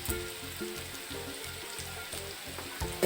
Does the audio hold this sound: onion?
yes